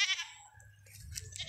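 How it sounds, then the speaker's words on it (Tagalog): Goats grazing outdoors give brief, close bleats, one at the start and more overlapping toward the end, over a low, steady background rumble. "mga kambing dito kumakain ng mga damo"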